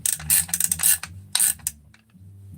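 Socket ratchet turning on a threaded rod to draw a bearing into a motorcycle crankcase, a run of close, sharp clicking bursts in quick rhythm, then a pause and a fainter creak.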